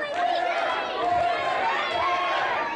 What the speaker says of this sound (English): as you hear this crowd begin to take sides